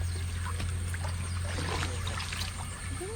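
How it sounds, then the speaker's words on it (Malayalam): A forest stream trickles and gurgles continuously at low level, with small bubbling splashes over a steady low hum, no voices. "വെള്ളം ഒഴുകി പോകുന്നുണ്ട്"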